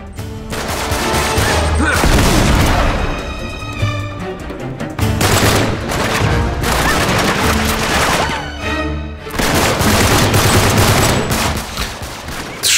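Loud, sustained gunfire from the Syria level of the video game Uncharted 3, with dense bursts of shots and crashes running almost continuously under game music and effects, briefly dipping between volleys.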